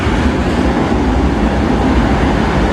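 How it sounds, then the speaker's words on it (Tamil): The Mangalore Express train pulls into a station platform, producing a loud, steady broadband rumble and rolling roar that carries on without a break and with no talk. "ஸோ நம்ம ட்ரெயின் வந்துருச்சு, போவோம்."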